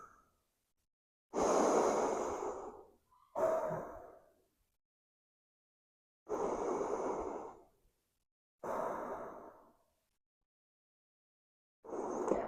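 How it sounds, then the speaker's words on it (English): Slow ujjayi breaths drawn through the nose during a power yoga flow: long, breathy hissing inhales and exhales about two seconds each, separated by silent pauses, close and alone with no talking. "Just taking some nice, beautiful ujjayi breaths through your nose"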